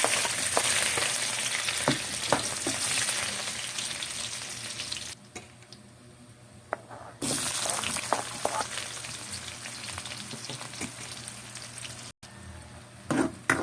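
Onion and garlic sautéing in a pan for a bean-sprout guisado: a steady, close sizzle with scattered stirring clicks, briefly dropping to a quieter hiss midway before the frying noise returns.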